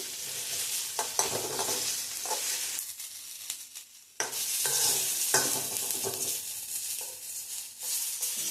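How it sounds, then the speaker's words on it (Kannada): Tomatoes fry in a little oil for kai gojju, a steady close sizzle with stirring and scraping scrapes throughout, a brief quieter dip midway before the frying noise returns at full strength. "ಒಂದು ಸ್ವಲ್ಪ ಎಣ್ಣೆ ಹಾಕ್ಕೊಂಡ್ಬಿಟ್ಟು ಹುರ್ಕೊಳ್ಳೋಣ ಚೆನ್ನಾಗಿ ಹುರ್ಕೊಳ್ಬೇಕು ಟೊಮೆಟೊ ಇದರಲ್ಲೇ ಬೇಯುತ್ತೆ"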